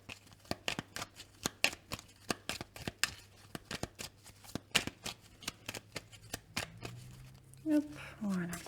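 Tarot cards are shuffled in a steady series of crisp, rapid riffling snaps close to the listener, before a voice begins speaking near the end.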